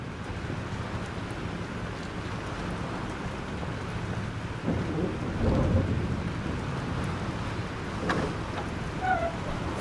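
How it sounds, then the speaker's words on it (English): Thunderstorm in the Life is Strange video game: steady heavy rain and wind with a low rumbling roll of thunder swelling midway, loud and continuous with no talk. "This storm is real."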